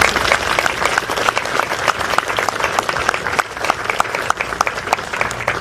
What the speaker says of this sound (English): Please join me in a quick round of applause for the team.